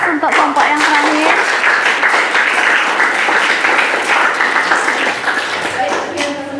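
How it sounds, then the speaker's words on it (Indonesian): Applause for the last group to present in a classroom lesson, steady and dense for several seconds, with voices talking over it throughout. "Silakan aplaus untuk kelompok yang terakhir"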